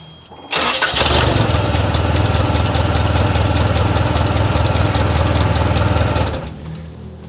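A car engine turns over and catches abruptly, then runs at a steady, loud idle with a rough, even pulse close by for several seconds before shutting off and trailing away.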